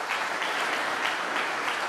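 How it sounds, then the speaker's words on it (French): Audience applause at a corporate event opening, a steady dense wash of clapping from a large crowd, sustained and even throughout with no talk over it. "Merci d'applaudir"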